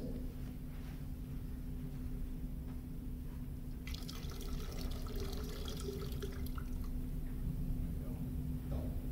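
Tap water running from a partly open faucet feeding a water-consumption metering ring, a steady low trickle that swells into a brighter splashing stream midway, then settles back, with faint background noise.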